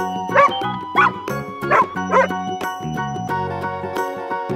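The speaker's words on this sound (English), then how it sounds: "Dog." A dog barks in a string of four quick, bright yips over a steady musical backing, with no talking.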